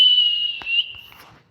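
An ultrasonic whistle gives a single sustained, piercing high-pitched tone that is loud and close, then breaks off and tails away into near silence.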